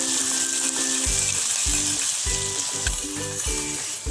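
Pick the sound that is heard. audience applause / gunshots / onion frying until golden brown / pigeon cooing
onion frying until golden brown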